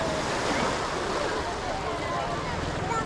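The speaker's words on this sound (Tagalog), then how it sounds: "the waves are still small" Small ocean waves wash steadily at Patar Beach in Bolinao, Pangasinan, a continuous broad surf hiss with wind buffeting the microphone.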